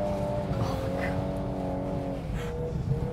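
A 2022 VW Golf R is driven hard while drifting in Austria, its engine holding a sustained, buzzing note at high revs with a faint tire hiss underneath, fairly distant and steady.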